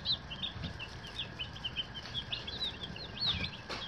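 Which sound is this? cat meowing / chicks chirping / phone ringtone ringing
chicks chirping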